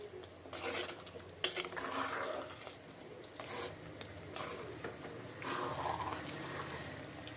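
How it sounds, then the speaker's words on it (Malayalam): Fried soya balls are stirred into chilli sauce in a pan, with soft wet sloshing and scraping strokes coming in several separate rounds, fairly quiet and close. "ഇനി നന്നായിട്ടൊന്ന് ഇളക്കി കൊടുക്കണം"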